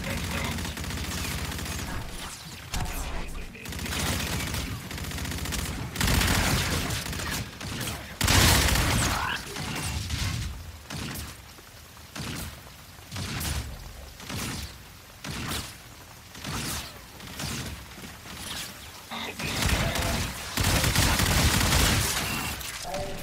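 Dense, continuous bursts of Call of Duty gunfire, rapid shots and volleys overlapping almost without pause, loud and close throughout.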